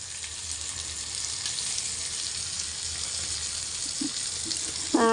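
Goat fat fries in a pan for a cabbage curry, giving a steady, close sizzling hiss that stays even throughout, with a brief clatter at the very end.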